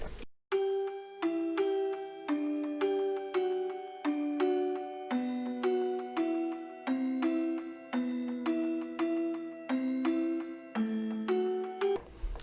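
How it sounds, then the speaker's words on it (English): A synthesized bell patch from the Expand 2 plugin plays a looping melody in an FL Studio beat, bright struck tones in a steady rhythmic pattern, about two notes per second, with chiming overtones and no voices. "Now I'm going to layer in a bell again in Expand 2."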